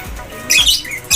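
A pigeon gives two or three short, sharp squawks close by as it enters a racing loft, with quiet gaps between the calls.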